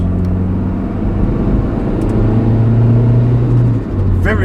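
A modified 645 bhp Honda Civic Type R drives along winding roads, heard from inside as a steady engine drone and road rumble with a rising tone near the end.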